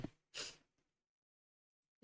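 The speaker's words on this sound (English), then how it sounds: "that sneeze really fucking took me out of it" A single sharp sneeze bursts out close to the mic, preceded by a brief intake of breath and followed by a faint trailing exhale, then near silence.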